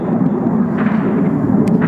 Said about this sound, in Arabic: الطيران الحربي يشن غارة جوية على مدينة أنخل